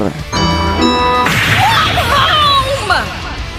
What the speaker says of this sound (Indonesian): Tiba-tiba Goku datang menabrak rumahnya karena dia masih belum bisa mengendalikan Ki-nya dengan benar.